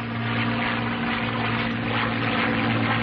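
A North American P-51 Mustang propeller fighter in flight just after takeoff, its engine a loud, steady droning roar with a constant low hum throughout and no voices.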